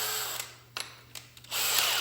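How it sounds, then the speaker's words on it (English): A power drill fitted with a 3/8-inch bit drills out the corners of a cutout for a Fire N Ice Matryx vent. The motor whines loudly, drops away, then surges back up at close range. "drilling out all the corners where you're going to be cutting off"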